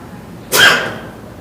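A single sharp human sneeze bursts out close by in a quiet courtroom, abrupt and loud, then trails off into a soft breathy tail over low room hum.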